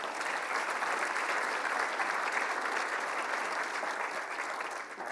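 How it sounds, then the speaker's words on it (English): Sustained audience applause fills a 2010 national conference hall in Las Vegas, steady dense clapping throughout with a slight fade near the end. "That also deserves a round of applause."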